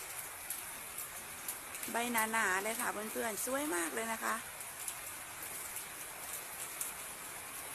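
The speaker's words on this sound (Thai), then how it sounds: "ฟังเสียงฝนค่ะเพื่อน ๆ" Steady rain falls over a small garden, a constant dense hiss throughout, with someone speaking softly over it for a few seconds.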